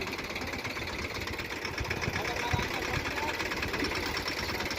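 A tractor engine runs continuously during a chickpea harvest on a farm, a steady rattling mid-range drone at moderate distance, with faint talk underneath.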